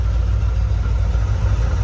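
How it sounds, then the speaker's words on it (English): An old C3 car engine idles steadily after its first start in two years, running on the original points ignition with a deep, even, loud rumble that is close by and alone throughout. "Look at that, it's idling perfectly."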